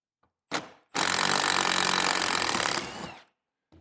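A power driver whirs steadily for about two seconds while backing out a T45 Torx bolt from a Jeep Wrangler seat, preceded by a short mechanical clack, close and loud with no talking.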